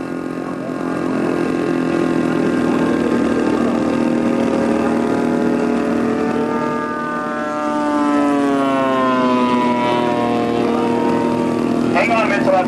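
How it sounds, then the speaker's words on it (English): A Blériot model airplane engine droning at a model aircraft competition field in Las Vegas, a steady buzzing whine that rises and falls in pitch as it passes, continuous and fairly loud throughout. "Hang on a minute till that plane clears the runway."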